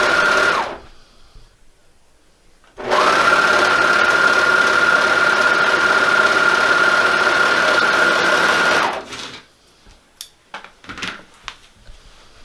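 A serger trims the seam allowance on a raglan sleeve shirt, running in one steady, loud, continuous whir for about six seconds, with quiet fabric handling and soft clicks before and after.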